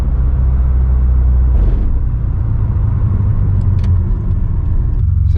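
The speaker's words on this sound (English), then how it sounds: "just to show you the sound levels in the car and everything. There's some rumble strips." A car's low, steady road rumble with a deeper droning buzz from tires crossing grooved pavement, fading into smoother road noise.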